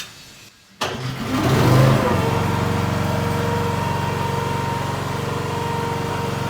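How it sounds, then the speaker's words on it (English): The engine on a Wolfe Ridge 17VS vertical log splitter with electronic throttle and automatic choke is started with a key: a short cranking burst, then the motor catches and settles into a steady, loud idle. "So all you have to do is turn the key and start it up."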